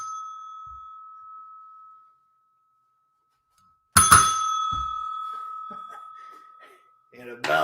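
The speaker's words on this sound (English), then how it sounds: "You got a bell on the door there, huh?" A small bell on a shop door rings with a sustained metallic tone that fades, then a sharp jangle sounds as the door moves again, with a voice speaking near the end.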